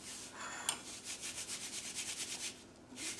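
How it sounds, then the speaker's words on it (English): Hands rub flour between them while making butter tarts, a soft, close, steady dry scrubbing that pulses in a quick back-and-forth rhythm for a few seconds. "Just take a little common flour, rub it around on your hands"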